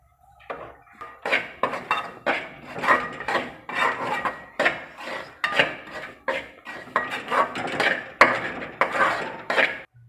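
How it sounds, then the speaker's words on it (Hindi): Semolina roasting in ghee in a pan, a spoon scraping and stirring steadily in repeated rhythmic strokes, close and fairly loud throughout. "सूजी को हम साथ साथ चम्मच चलाते जाएंगे"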